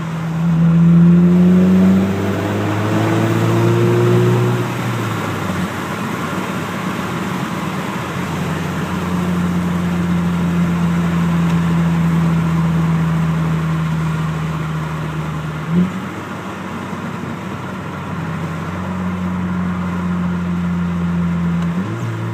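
A car with a custom exhaust and deleted muffler drones loudly while driving, a deep steady rumble that rises with revving at the start and holds through long cruising stretches with brief pitch shifts between gears.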